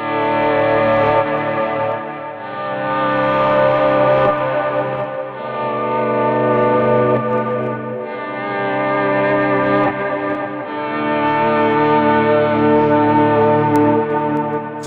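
Electric guitar notes swell in slowly without audible pick attack, washed in dual delay and cloud reverb, forming loud sustained ambient worship-style waves that rise and fall.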